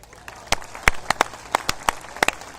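Scattered claps from a small audience at an outdoor poetry gathering in Lohiya Park, Lucknow, a sparse irregular patter of sharp individual hand claps rather than full applause, moderately close.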